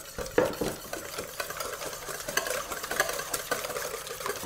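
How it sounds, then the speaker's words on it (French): A whisk beats eggs and 200 g of cream in a large mixing bowl, rapid scraping and clicking against the sides in a steady busy rhythm, close up with a low background hum. "On va fouetter l'ensemble."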